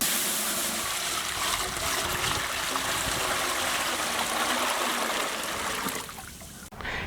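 Water streams into a heated pot as the first step of cooking mutton tahari, a steady splashing pour for about six seconds before it cuts off abruptly.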